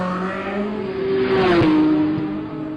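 Classic race car at a hill climb accelerates hard, engine note rising then easing as it pulls away up the hill, loud and close with no voices over it.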